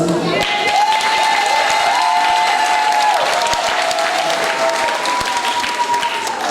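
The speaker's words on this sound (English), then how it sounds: "I am not hearing the applause." A crowd at a primary school graduation service applauds with cheering and children shouting, lively sustained clapping and a few whistles, loud throughout with voices mixed in.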